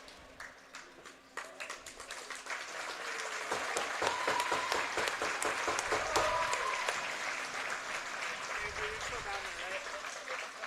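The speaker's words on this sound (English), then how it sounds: "a round of applause to our NCHA Harris Cup finalists from Aurora University" An ice rink crowd claps for the NCHA Harris Cup hockey finalists from Aurora University. Sparse individual claps build into sustained, broad applause, and an announcer's voice carries over the arena.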